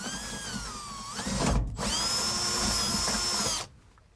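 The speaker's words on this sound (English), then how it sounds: "let's try just drilling a hole there first" A power drill bores a hole through truck sheet metal, a steady high whine running loud and close, stopping briefly once before resuming and then cutting off.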